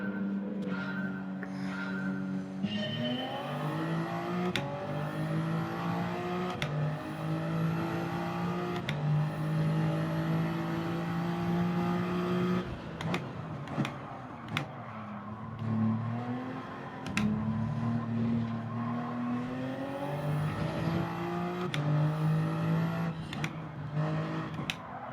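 Lamborghini race cars roar around the Laguna Seca track in Gran Turismo 7, sustained engine drone with rising and falling revs through gear changes, close and loud with other cars around, no talk.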